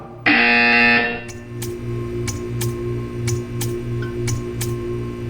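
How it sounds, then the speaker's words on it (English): A loud, steady electronic buzzer from the game Portal blares for about a second, then gives way to a low droning hum with regular faint clicks ticking over it. "When you hear the buzzer, stare at the art."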